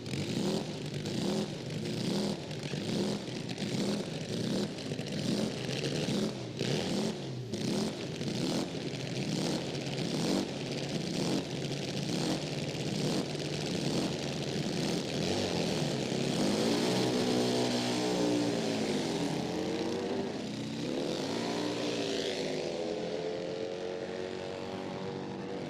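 A drag racing motorcycle launches on a sticky track, a loud, buzzing engine with rapid pulsing that climbs steadily in pitch as it accelerates away, shifting partway through and fading slightly near the end.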